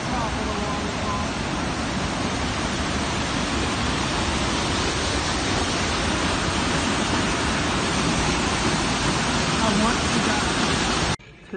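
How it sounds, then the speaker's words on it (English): Rushing water at the top of a waterfall in Arizona, a steady, loud, broadband roar that holds unbroken for the whole stretch and cuts off abruptly at the end. "Here is the top of the waterfall."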